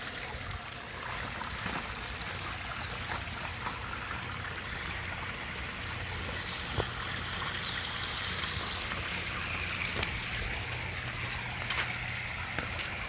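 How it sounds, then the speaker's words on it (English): Steady waterfall spilling into a koi pond, a soft continuous trickling and splashing wash heard close but fairly quiet, with no voices. "So then we got a steady waterfall."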